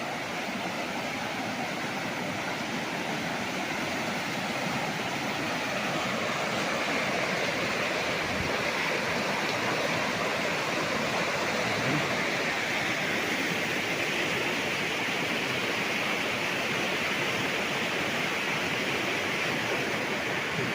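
Continuous rushing water, a strong river current in Cavinti, Laguna roaring steadily and evenly throughout, close and loud with no voices.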